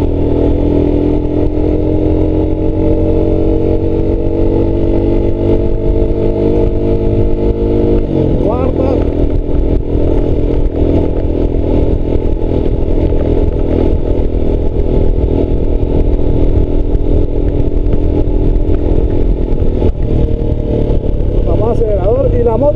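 A motorcycle engine hums and revs steadily as the rider accelerates and shifts through gears on the road, with someone talking over the continuous engine drone and occasional clatter.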